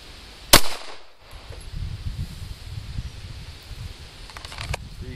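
A single sharp Glock pistol shot cracks out loud and close at target practice, followed by a quieter stretch of rustling outdoor background.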